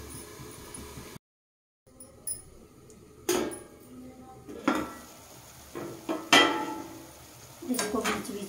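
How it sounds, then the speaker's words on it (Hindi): A spoon scrapes and clinks against a metal pot while bottle gourd is stirred on a gas stove, and a lid clatters into place, with scattered knocks and light sizzling in a quiet kitchen. "तो मैं इसको ऐसे चला के और गैस को मीडियम करके छोड़ देती हूँ थोड़ी देर के लिए, और ऐसे इसे ढक देती हूँ"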